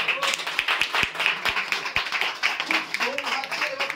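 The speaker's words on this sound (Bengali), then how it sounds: "আরেকবার হাততালি হোক।" A small crowd claps for a lucky draw winner, giving a short burst of scattered, fairly faint claps, with a voice talking over them.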